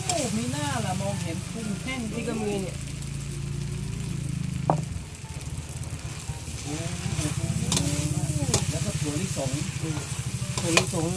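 Pad thai stir-fried in a wok with dried shrimp: a steady loud sizzle with scraping and stirring throughout, while people talk over the cooking.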